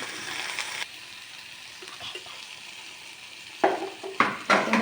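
Okra sizzles in a pan over a medium flame for a spicy chaat masala dish, quiet frying hiss with a few louder bursts of stirring and scraping toward the end.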